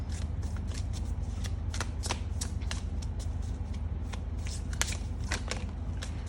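Tarot cards are shuffled by hand in a continuous run of quick papery riffles and flicks, close and fairly quiet, with no voice over them.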